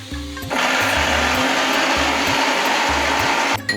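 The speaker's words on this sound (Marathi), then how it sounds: "कोथिंबीर बी दळून घ्यायची थोडीशी." A mixer grinder whirs loudly and steadily, grinding coriander, green chili and ginger into paste, starting abruptly after a brief pause and cutting off near the end, with a low motor drone running underneath.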